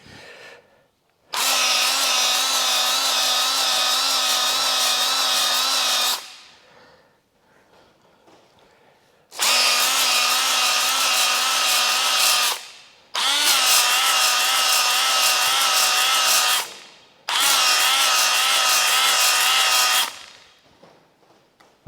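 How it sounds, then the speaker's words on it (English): A drill spins a flex hone inside the cylinder bores of a Ford crossflow engine, whining in four long bursts of several seconds each with quiet gaps between them and no voices. "we're going to give the bores a quick rub up with a flex hone"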